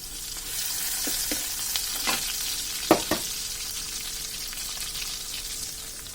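Egg added to roti noodles with capsicum frying in a pan, a steady close sizzle with a few brief clinks and stirring knocks, no voices.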